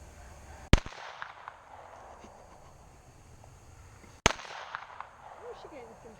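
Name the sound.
gunshots from Glock 43 and Glock 19 pistols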